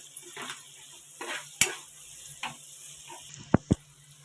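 Spices such as fenugreek and salt stirred in a frying pan for egg gravy curry, with a few soft scraping strokes followed by two sharp, close utensil clacks against the pan near the end.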